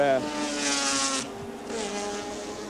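Touring race cars at Adelaide International Raceway in 1984, engines revving hard with a downshift then upshift, pitch dropping and climbing, under a commentator's talk.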